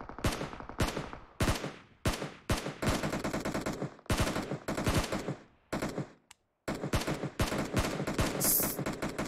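Enemy gunfire in a video game comes as repeated bursts of rapid automatic shots, loud and sharp. Short pauses and one brief silence separate the volleys.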